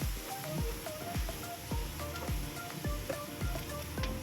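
Food sautéed in a pan while being stirred, a steady sizzle broken by a repeated scraping knock roughly every half second from the spatula striking the pan, close and moderately loud with no talking.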